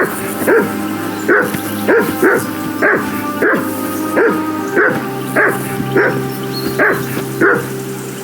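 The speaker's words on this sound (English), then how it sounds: "Whistle at that mutt of yours to stop barking!" A dog in Kingdom Come Deliverance 2 barks loudly and steadily, about a dozen evenly spaced barks that sit close and prominent over a constant background hum.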